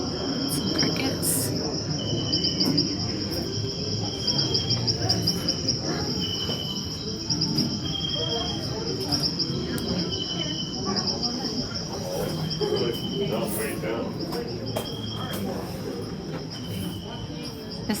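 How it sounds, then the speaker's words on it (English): Crickets chirp in steady, shrill pulses inside a museum of oddities, layered over a busy background murmur of visitors and ambient noise throughout. "Some crickets."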